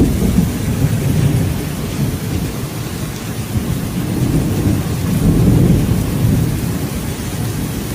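A heavy thunderstorm with steady pouring rain and deep rolling thunder swelling and fading, loud and continuous with no voices.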